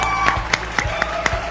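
A small audience gives sparse applause for a nutrition speaker, a few scattered claps spaced apart over a faint background tone.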